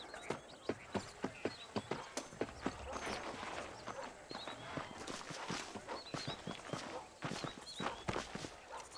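Horse hooves clip-clop at a walk in the Red Dead Redemption game, a steady near rhythm of sharp hoof strikes with faint bird calls in the background.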